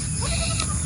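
A goat bleats faintly in a rainy rural pen, its short wavering calls half buried under a constant loud wash of rain or wind noise.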